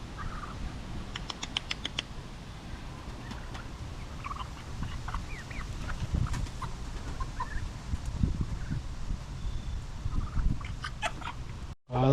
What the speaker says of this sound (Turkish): Arkadaşlar cücükleri bıraktım.